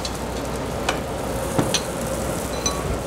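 Onions dropped into a hot pan give a dense steady sizzle with a few faint clicks over it, close and continuous, with no talking.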